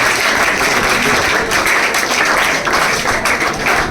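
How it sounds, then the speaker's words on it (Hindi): A classroom audience at a coaching institute claps for a student who cleared an Air Force officer exam. The applause is loud, close and continuous, with no talking over it. "उनके लिए ताली हो जाए"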